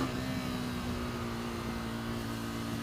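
A KTM RC390 single-cylinder motorcycle exhaust drones steadily while riding, a continuous loud engine hum with an even pitch from start to finish and no voices.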